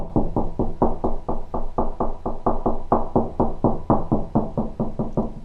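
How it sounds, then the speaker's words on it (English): Knuckles knocking along an interior wall to locate studs, a steady series of about twenty-five close, dull raps in even rhythm, heard alone. "if we knock, it's going to sound hollow, and then when we get to the stud, it's going to sound more solid"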